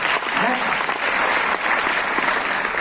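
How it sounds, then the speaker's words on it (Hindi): A crowd at a Modicare business presentation applauds with steady, sustained clapping throughout. "इस बेहतरीन विजन के लिए तालियां होनी चाहिए"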